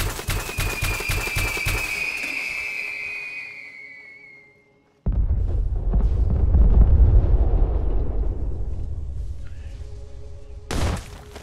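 A grenade explodes in the video game Fallout 4 with a deep, loud rumbling blast that swells and lingers for several seconds after a whistling tone and a brief silence.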